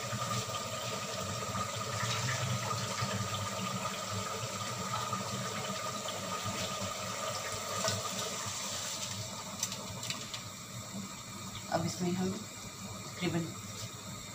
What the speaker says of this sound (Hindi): एक गिलास पानी पहले डाला था एक गिलास अभी डालें दो गिलास पानी डाल के इसको हिलाना है